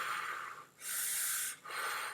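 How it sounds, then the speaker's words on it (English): Deep diaphragm breathing from the stomach: three long, airy breaths, close to the microphone, with short pauses between them. "you can breathe through your stomach"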